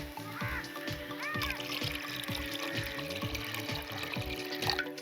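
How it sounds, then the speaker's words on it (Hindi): Water poured into dal in a cooking pot, a continuous splashing trickle heard up close, mixed with rhythmic knocking and a voice in the background. "इसी के साथ इसके अंदर पानी डाल देंगे।"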